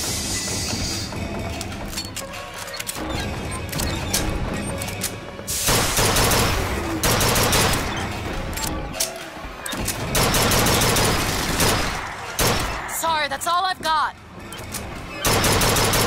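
Gunfire in BioShock Infinite, loud bursts of shooting and impacts coming in waves and separated by brief lulls, mixed with game effects and a voice speaking in between.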